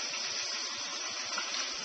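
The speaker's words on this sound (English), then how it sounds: "I'm just going to take it to the sink, and I'm going to fill this up with water" Water gushes steadily from a kitchen sink tap into a bowl of pearl barley, a close, continuous broadband rush with no talk over it.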